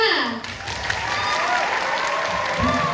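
Audience applause at a Balinese comedy show with the duo Bolale at a temple, a dense steady clatter of clapping throughout with voices talking over it.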